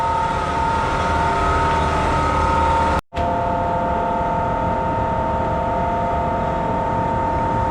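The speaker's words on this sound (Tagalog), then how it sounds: "Ito yung ano nila mga kaspagatak, crusher. So meron siyang motor dito, no? Tapos dito, ayan, belt lang yung ano niya." A motor-and-belt-driven ice crusher runs with a steady, loud mechanical drone and hum, briefly cutting out for an instant before resuming just as strongly.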